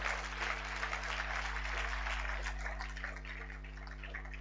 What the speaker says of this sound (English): So I want you to even clap for her even more because she wrote that by herself.